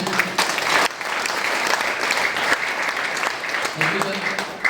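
A crowd at an RCM business plan meeting bursts into loud, sustained applause, a dense close clatter of clapping with a brief dip partway, and talk mixed in.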